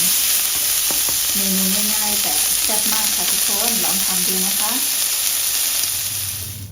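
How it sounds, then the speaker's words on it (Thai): Pork belly stir-fried with garlic and chili in a hot pan, a loud continuous sizzle with bursts of stirring and scraping, plus a faint background voice. "เราก็ คั่วต่อให้มีกลิ่นหอมของกระเทียมกับพริกลอยขึ้นมา"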